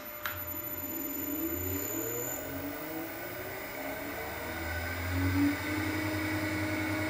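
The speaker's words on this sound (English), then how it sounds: "start the motor" Electric motor of a Harrison 140 lathe running with the drive belts removed, a steady even whir and hum held at moderate level for several seconds, alone with no talk.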